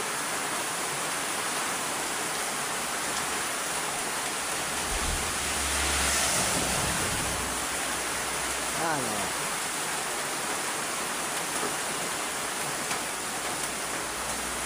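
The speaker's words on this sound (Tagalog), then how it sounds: "Walang ubos ang ulan." Heavy rain from a typhoon pours down in a steady, dense roar, broad and unbroken, with a low gusting rumble passing through midway.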